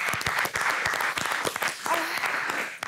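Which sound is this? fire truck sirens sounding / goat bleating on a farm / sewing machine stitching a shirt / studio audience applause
studio audience applause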